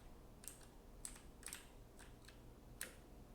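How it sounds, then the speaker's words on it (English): Quiet, close typing on a computer keyboard: a handful of sharp, irregular key clicks spaced through a near-silent room, with one louder tap near the end. "Keyboard."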